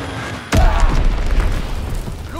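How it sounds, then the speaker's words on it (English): A bomb in the Call of Duty WWII video game explodes with a sudden, loud boom about half a second in, followed by a heavy, sustained rumble. "Enemy bomb incoming."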